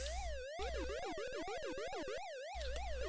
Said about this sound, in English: the siren has gotten faster in tempo